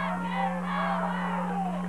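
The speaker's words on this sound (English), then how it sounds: "And the crowd getting into it." A high school football crowd in 1996 at John Glenn versus Catholic Central, a short swell of massed voices and shouting carried over a steady electrical hum.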